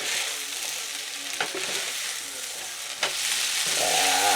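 Cabbage and egg noodles with bratwurst frying in a pan, a continuous loud sizzle broken by a couple of spatula scrapes and stirs.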